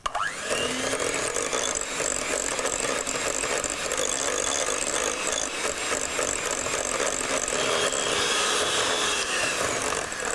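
An electric mixer beats chocolate hazelnut cake batter with vanilla essence, a steady, continuous whirring drone held at constant loudness for the whole stretch with no talking.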